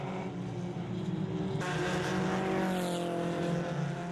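Race car engine roaring past at the 500 Milhas de Londrina endurance race, a loud continuous drone that swells and shifts pitch midway as the car goes by, with no talk.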